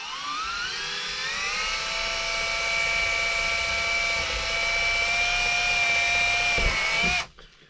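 A power drill with an 11/64 bit whines steadily and close for several seconds, pitch holding high, then spins down and stops abruptly.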